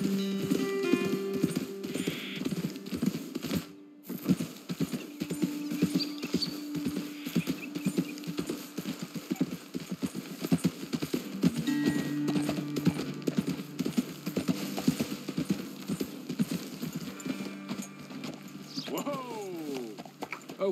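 Horse hooves clip-clop steadily on a trail in the Red Dead Redemption 2 western video game, a close rhythmic beat running through the whole stretch, with a brief whinny and a voice talking over it.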